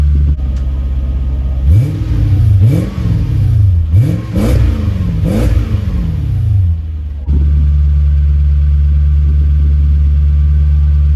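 A Lexus SC400 engine with a deep, loud aftermarket exhaust revs up and down four times in quick succession in cold weather, then drops back to a steady rumbling idle.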